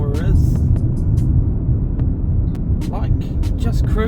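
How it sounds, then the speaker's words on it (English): Cabin of a 2020 Toyota Corolla Hybrid Touring 4WD cruising at 46 km/h, with a steady low road rumble and tyre noise under a voice talking throughout. "Let's see what cruising at 46 kilometers per hour is."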